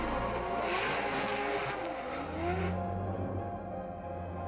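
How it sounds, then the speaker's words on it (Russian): A rally car spins donuts, its tires skidding and squealing under a loud, revving engine that stays close and continuous, with a high screech that cuts off midway as the engine note drops and rumbles on. "Подснять кое-какой материал, покрутить пятаки"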